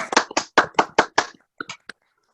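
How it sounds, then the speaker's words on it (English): A few people on a group video call clap briefly in a sparse, uneven round of about six sharp claps, close to the microphone, thinning out and stopping after a couple of seconds. "Round of applause."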